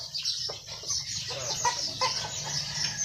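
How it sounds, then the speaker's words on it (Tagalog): A chicken clucks repeatedly nearby in short choppy bursts, with faint farmyard background noise. "Ayun yung manok."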